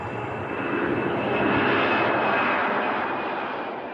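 Ilyushin Il-62M airliner jet engines roaring at full takeoff power, a loud, steady broadband rush that swells and then slowly fades, with no talk.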